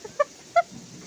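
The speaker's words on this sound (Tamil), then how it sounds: "சேவல் பாருங்க ஓடுது பாருங்க. இதுவும் இன்னும் 2 கோழி தான் இருக்குது நம்ம வீட்டில்." Household chickens around a home give two short, sharp clucks about a third of a second apart, close by, followed by quiet.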